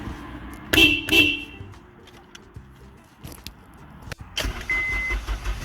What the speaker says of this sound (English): Beep the horn to check it's working.